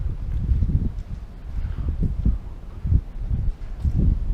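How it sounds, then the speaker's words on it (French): Strong gusting wind buffets the microphone in low, rumbling bursts, loud and continuous with no voices. "Putain, il y en a du vent, laisse tomber."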